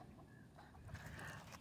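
Chickens cluck softly at a distance, a few faint calls rising over low background rumble with no talking.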